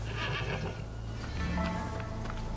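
Horse neighing in the video game Evil West, a loud drawn-out whinny over game ambience, with faint hoof clip-clop underneath and no speech.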